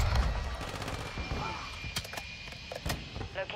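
Rapid gunfire from the video game Modern Warfare 2 comes in fast bursts of sharp cracks, dense at first, then thinning into separate shots over a busy background.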